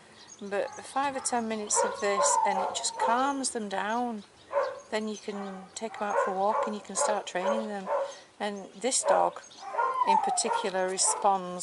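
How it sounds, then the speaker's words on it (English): Dogs barking in rescue kennels, faint and distant beneath someone speaking steadily throughout. "so you can hear them barking in the background"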